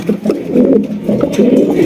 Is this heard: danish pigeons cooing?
yes